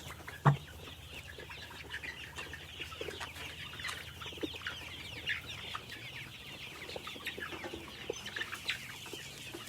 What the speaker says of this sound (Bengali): মুরগির ঘর ঘর বা খ্যাক খ্যাক আওয়াজ এটা কিছুতেই কমছে না